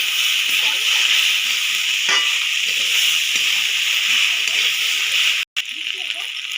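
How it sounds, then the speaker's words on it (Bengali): A bowl of water poured into a pan of cooking pui greens with mustard paste makes a loud, steady rushing hiss that cuts off abruptly, leaving a softer bubbling sizzle. "একটু জল দিয়ে দেবো। তো এখানে দিয়ে দেবো 1 বাটি জল।"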